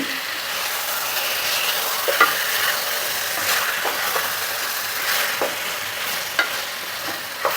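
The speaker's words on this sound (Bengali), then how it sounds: "চিকেনটা আমরা সাত আট মিনিট কষিয়ে নেব" Chicken coated in spice masala sautés in a pan with a steady, close frying sizzle, broken by regular scraping stirs and small clicks of the spoon against the pan throughout.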